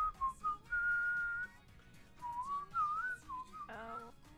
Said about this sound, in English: How's my whistling, you guys?